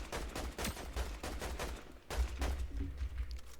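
Gunfire rattles in Fortnite Chapter 7 as repeated rapid bursts of shots fire back to back, loud and continuous through the moment.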